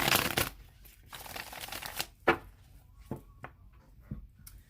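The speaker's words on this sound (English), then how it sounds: "I'm going to go ahead and shuffle the cards 3 more times." Tarot cards being shuffled by hand, a deck riffled and tapped in quick papery bursts with soft flicks and a few sharp taps, close by and fairly quiet, with no talking.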